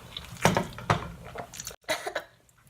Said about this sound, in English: Let me just finish chewing my food.